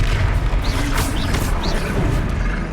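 Confringo fire-blast spell from Hogwarts Legacy bursts amid a dense, loud wash of game combat noise, with rumbling low impacts and a few short whooshing streaks layered over continuous battle sound.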